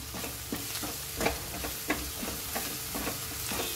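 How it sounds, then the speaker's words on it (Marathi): Masala and onion sautéing in oil for a dry Malvani matki bhaji, a steady close sizzle broken by repeated scraping stirs of a spatula, no voices. "आणि हा मसाला आणि हे कांदा वगैरे छान आता परतून घ्यायचं आहे आपण"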